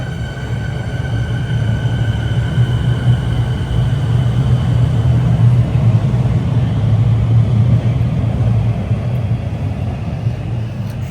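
Steady, loud rumble of a Comeng train running through Melbourne's City Loop on a Sunbury line trip, a continuous low drone with faint higher whine, no voices.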